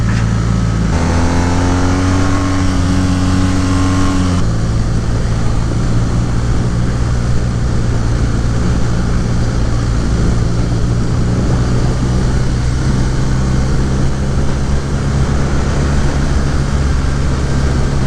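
A 2018 BMW R nineT motorcycle engine running loud and close, with a throttle blip that sharpens the note early on before it settles into a steady droning idle-to-cruise rumble.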